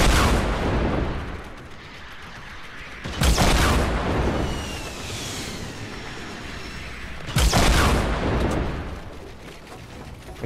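Heavy bursts of in-game gunfire from an enemy shooting at the player, two loud broadband blasts standing out above a rumbling battle backdrop, with a sustained roar between them.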